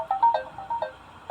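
A phone ringtone plays a short, bright electronic melody of repeating chirpy notes, close and fairly loud, with no voices over it.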